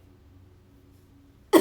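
A single short, sharp cough bursts out at the very end after a near-silent stretch with only a faint low hum.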